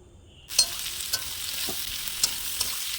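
Snake gourd pieces with onions hit hot oil in a pan and break into a steady, close sizzle after a brief quiet start, with a few sharp spatula clicks and no voices.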